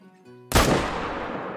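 A single loud rifle shot fired at an animal during a hunt in the video game Call of the Wild, a sharp crack after near-silence followed by a long rolling echo that fades slowly.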